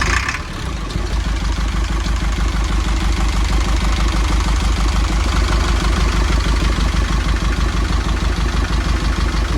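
A work truck's engine idles steadily just after a turbocharger tube was fitted, its low clattering rumble running loud and unbroken without any voices.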